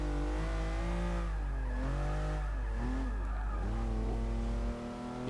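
Lamborghini LM002 in Forza 6 with a drift build, engine droning loud and steady, its pitch rising and dipping as the car revs and slides through corners, with a faint tire squeal.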